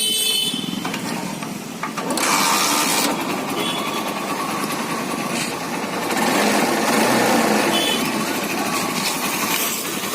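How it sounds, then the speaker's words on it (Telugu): A Hero Karizma R motorcycle engine, freshly rebuilt with a new bore kit and cylinder kit, starts and runs close by with a busy mechanical whir, revving up twice and holding a steady, loud beat. "ఒకసారి మీకు స్టార్ట్ చేసి ఇంజిన్ బీటింగ్ అనేది ఎలా ఉంది అని చూపిస్తా చూడండి"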